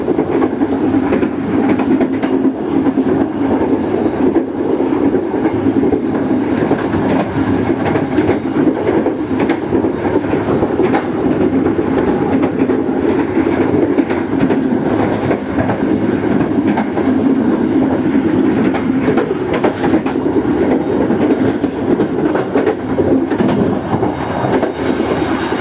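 The Argo Bromo Anggrek express train passes at high speed near Tambun station, a loud, steady rumble with rail clatter lasting throughout, no voices.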